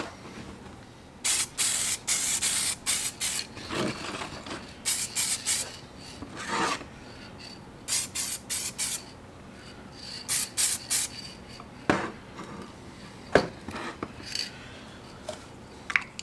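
Diamond clear finish sprayed from an aerosol can onto an old wooden fishing lure on a stand, in repeated short hissing bursts of about a second each with brief pauses between them, close and fairly loud, no talking.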